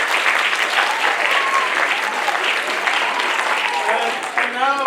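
A school audience at a production of The Emperor's New Clothes gives sustained applause for the backstage helpers, dense steady clapping from a crowd that fills the room, with a voice speaking faintly under it near the end.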